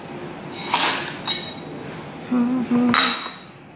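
Coconut flakes, salt and cinnamon powder stirred together in a bowl: a few scattered clinks and scrapes of a utensil against the bowl, with brief clattering knocks, close and moderately loud.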